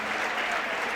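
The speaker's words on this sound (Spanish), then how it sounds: "Démosle un aplauso al Señor porque nos lo pide." A church congregation claps together during an evangelical revival service, a dense, steady wash of applause filling the whole moment without a break.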